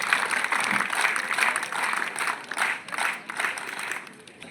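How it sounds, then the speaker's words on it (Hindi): An audience at a college Independence Day flag-hoisting ceremony claps steadily in sustained, loud applause that swells and dips over several seconds, with no voices. "और एक बार पुनः अपने लिए जरा जोरदार ताली बजाइए।"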